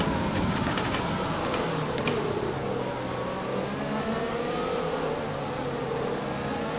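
Ferrari Formula 1 car engine in the F1 2020 racing game at the Russian Grand Prix, a steady, continuous drone with shifting pitch that holds constant loudness throughout, no voices.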